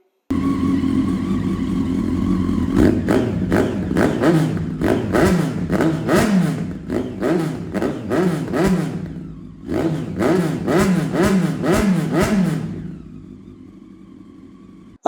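A Honda CBR 954 sport motorcycle engine idles, then revs hard in a rapid series of sharp throttle blips, pauses briefly, revs again, and settles back to a low idle.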